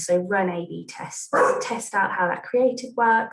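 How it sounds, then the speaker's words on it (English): A dog barks several times, loud and close, in short bursts under continuous speech from a presenter. "That's my dog, sorry."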